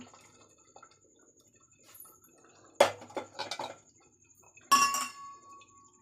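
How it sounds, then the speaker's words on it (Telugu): Boiled bitter gourd tipped into a strainer in a home kitchen: a sharp splash and metal clatter, a few quick knocks, then a second burst of pouring and clinking, close and otherwise quiet. "స్ట్రైనర్ పెట్టుకుని ఇందులో వేసేసుకోవాలి"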